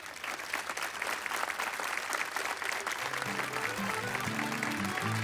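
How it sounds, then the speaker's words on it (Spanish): Strong, steady applause for three singers of malagueñas at a Canarian folk music evening, filling the clip, with a sustained low musical tone entering under the clapping in the second half. "El aplauso muy fuerte para esos tres cantadores."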